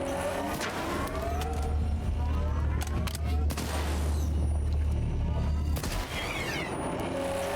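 Gunfire in the video game Stalker 2, dense repeated shots and booming bursts over a low rumble, loud and close for most of the stretch, with no voices.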